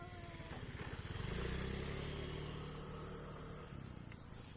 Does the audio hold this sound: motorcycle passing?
yes